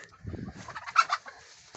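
Hens and a rooster cluck and call inside a new coop, a few short close squawks and clucks over a brief low rustle.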